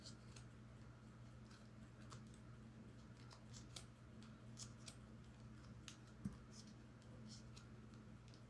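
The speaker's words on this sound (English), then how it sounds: "you're going to take your scissors, and where this is wrapped, you're going to cut through all the loops" Dull scissors snip repeatedly through wrapped yarn loops of a pompom, a quiet irregular run of close crisp cuts over a low background hum.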